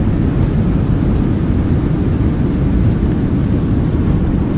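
Airliner jet engines roaring in reverse thrust just after touchdown, a loud, steady broadband rush of engine and air noise that holds constant without a break.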